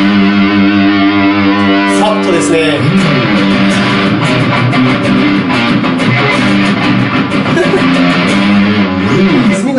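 Electric guitar played through a Zoom G1 Four effects pedal set to a heavily distorted tone, sustained and loud throughout, with chords shifting and a brief spoken remark over it.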